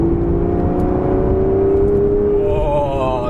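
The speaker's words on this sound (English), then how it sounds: "oh, you get the exhaust note, and this car comes to life" A 2024-era Aston Martin Vanquish accelerates in sport mode, its engine and exhaust rising as a loud, steady, close drone with a slowly climbing tone and a rougher rumble underneath.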